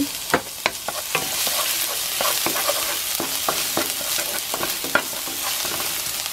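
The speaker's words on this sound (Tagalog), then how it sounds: "Dito po sa isang cooking pan ay nagpainit tayo ng cooking oil. Dito po ay ilalagay natin itong garlic." Garlic frying in hot cooking oil in a pan, a steady loud sizzle close up with frequent sharp clinks and scrapes of stirring.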